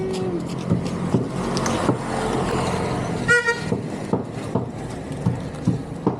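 A single short vehicle horn honk sounds over the rumble of passing traffic and road noise.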